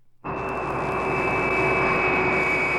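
Airplane engine sound effect from a live television drama set aboard an airliner with a burning engine, a sudden loud, sustained droning roar with steady whining tones that starts abruptly and holds without pause.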